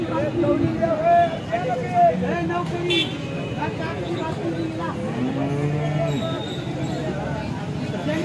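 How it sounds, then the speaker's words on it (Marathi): A Sahiwal cow at a busy cattle market in Alephata lows several times amid people talking and distant vehicle horns. "सायवाल जातीची गाई आहे."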